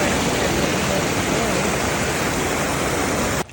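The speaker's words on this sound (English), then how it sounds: "we're gonna head up this now after we cross the river that's flowing along it" River flowing beside a hiking trail on the Appalachian Trail, a dense, even rush of water heard close and loud, cutting off abruptly at the end.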